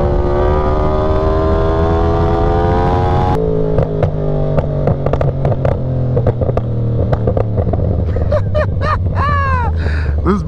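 A Yamaha R1M sport motorcycle engine revs loudly and up close, a steady high-pitched drone that drops at about three seconds into lower rumbling pulses and then climbs again in sharp swooping revs toward the end.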